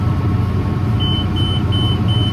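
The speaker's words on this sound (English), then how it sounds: "There's our second alarm." A high electronic hay baler alarm beeps repeatedly in short, evenly spaced tones over the loud, steady rumble of a running John Deere tractor engine.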